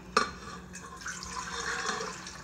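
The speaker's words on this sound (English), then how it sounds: "first I'm putting more water in it." Tap water pours steadily into a bowl of pizza dough, a brief sharp clatter at the start giving way to an even, continuous rush of running water with no talking.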